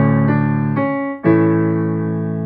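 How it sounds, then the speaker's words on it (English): Piano plays a riff with both hands, roots in the left hand and melody in the right. Three sustained chord strikes ring clearly and alone, the last one held and slowly decaying. "if I let my left hand play the roots and my right hand do some of that melody, it could sound"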